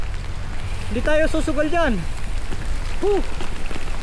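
Heavy rain pours in a steady, dense hiss on a mountain road between Baguio and Sagada, with a person speaking briefly over it.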